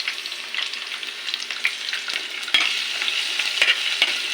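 Onion sautéing in a hot pan gives a steady, close sizzle with light crackles and a few small stirring clicks throughout.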